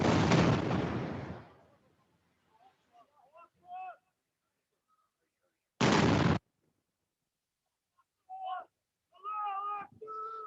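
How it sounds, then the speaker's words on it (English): A heavy blast booms and rumbles out, followed later by a second abrupt explosion, an Israeli airstrike demolishing a 12-story building in Gaza City, with speech fragments and pauses in between. "The second explosion is an Israeli airstrike that demolished a 12-story building in Gaza City"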